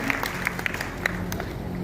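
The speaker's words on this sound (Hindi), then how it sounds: "एक बार जोरदार तालियां बजा दो इन बच्चों के लिए जो इस विभाग में आना चाहते हैं।" Students applaud at a police outreach talk: a short burst of scattered clapping with a few sharper individual claps standing out, moderately loud and close, with faint background voices.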